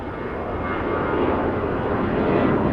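Airliner taxiing at Los Angeles International Airport, a steady broad engine roar that swells slightly as it moves, moderately distant with no talk.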